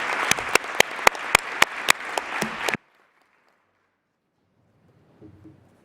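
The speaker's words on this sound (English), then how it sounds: "keep that round of applause going for the panel members and everyone who spoke from the floor" An audience at a jobs and skills summit applauds the panel members, loud sustained clapping with sharp individual claps standing out, which cuts off abruptly into silence before a faint low sound near the end.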